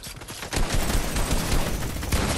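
Rapid gunfire in a Fortnite-style arena video game, a dense burst of shots crackling close and loud across most of the short moment.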